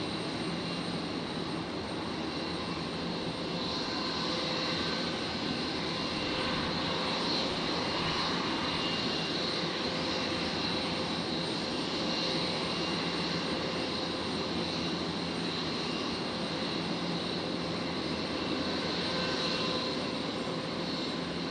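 An airliner landing at night at Brisbane Airport produces a continuous, steady jet engine roar, heard from a moderate distance with no pauses.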